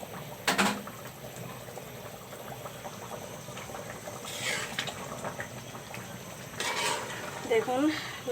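Thinly sliced bottle gourd boiling in a covered pot, a low bubbling simmer under occasional lid and utensil clinks, with a few brief louder clatters and a soft voice talking in the background.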